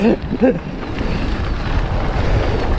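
Heavy, continuous wind buffeting a microphone while riding a Whyte 905 mountain bike, a loud steady roar with brief voice-like sounds at the start.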